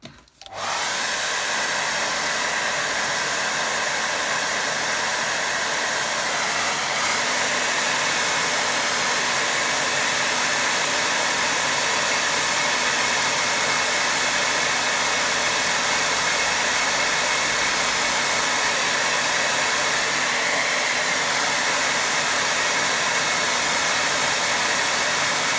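Hair dryer drying watercolour paint, switched on abruptly and then blowing as a loud, steady, close whooshing whir for over twenty seconds with no talk.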